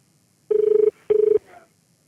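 A telephone rings twice in clear, loud bursts, each a rapid warbling trill of about half a second, followed by a brief faint tone, with no talking.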